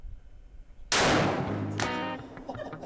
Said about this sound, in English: To the uninitiated, it fires like a cannon.